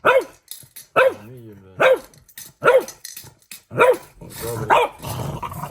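A dog barks repeatedly in loud, sharp single barks spaced about a second apart, close by, with faint growling between them.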